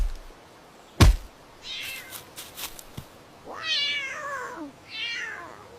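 A sharp thump, then a cat meows twice, drawn-out and close, with soft rustling in between.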